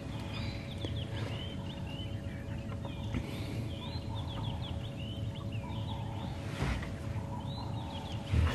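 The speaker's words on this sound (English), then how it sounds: "as the sun comes out, the birds go crazy after a night of rain" Many birds chatter and call at once at sunrise after a night of rain, overlapping chirps and clucking sounds over a steady low background rumble, moderately distant.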